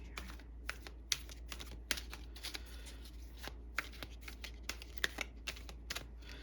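Tarot cards are shuffled and drawn in a quiet room, a run of light irregular papery taps and flicks, close but faint, with no voices.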